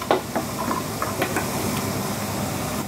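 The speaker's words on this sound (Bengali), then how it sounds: "পানি বলক চলে আসছে" Water boiling in a pot before taro stolons go in for a curry with hilsa fish, a steady close hiss and bubbling roar with a few faint clinks, no talking.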